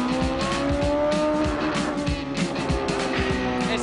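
A 1974 McLaren M23 racing car with a Cosworth engine fires up and runs, a loud, steady close-up engine roar with rough revving pulses throughout and no talk.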